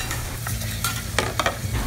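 Homemade prawn crackers frying in hot oil in an outdoor kitchen, a dense crackling sizzle with a low steady rumble underneath and scattered sharp pops.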